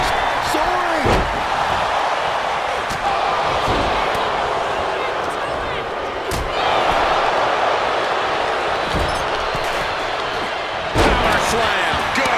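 Heavy body slam impacts in the WWE 2K25 wrestling video game during a Survivor Series match, several sharp thuds spaced seconds apart over a roaring arena crowd, with commentary voices talking throughout.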